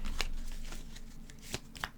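Tarot cards shuffled by hand during a pick-a-card reading: soft, continuous riffling with a few sharper snaps of cards slapping together, close and fairly quiet.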